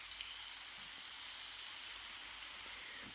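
Steady rain falls in a farming video game, a continuous even hiss of drops with no pauses and no talk over it.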